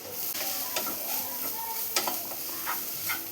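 Grated coconut stirred into horse gram fry in a hot pan, a steady close sizzle with scraping stir strokes running throughout.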